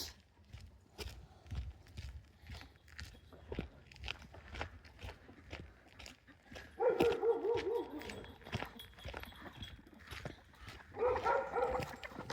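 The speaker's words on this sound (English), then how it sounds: "Dogs are barking at the local deer" Dogs bark at deer around a small farm, quiet, distant barking bursts heard over nearby footsteps and crunching on the ground.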